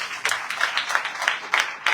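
Audience clapping in loose, slightly irregular bursts about every third of a second, fairly close and bright, with no voice over it.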